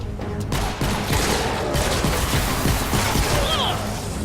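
A grenade blast in the Fortnite Save the World video game, loud bursts and crashing debris amid game effects and rapid gunfire-like crackle.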